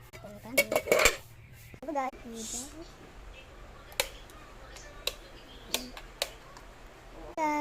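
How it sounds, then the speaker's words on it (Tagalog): A spoon, fork and plate clink and scrape as a rice meal is set out, with sharp metallic taps scattered through the stretch and a person talking between them. "Meron ng kutsara, ay tinidor, kutsara at plato."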